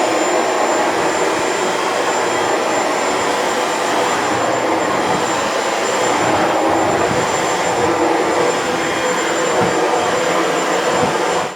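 A Shark Ultralight PetPro corded stick vacuum with PowerFins runs steadily on a hard floor, giving a loud, continuous whining roar that holds at one level throughout with no talking.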